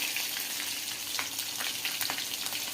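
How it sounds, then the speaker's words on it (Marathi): Tempering for a rava and buttermilk dhokla, with curry leaves and green chilies sizzling in hot oil, a steady crackling fry with sharp pops, close and continuous, no voices. "त्याला आता आपण तडका देऊन घेऊया झालेला आहे कढीपत्ता हिरवी मिरची"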